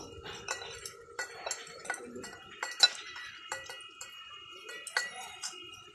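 Gram flour batter with salt and water is mixed in a bowl, with a utensil clinking and tapping against the sides in quick, uneven strokes, close and fairly crisp.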